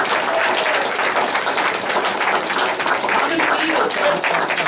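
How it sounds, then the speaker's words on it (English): An audience gives a steady round of applause for a 92-year-old Buffalo Soldier veteran, dense clapping from many hands, fairly close and sustained, with faint voices mixed in. "So give him another round of applause."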